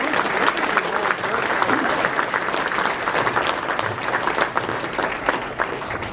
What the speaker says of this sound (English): How about a round of applause for all the inductees today?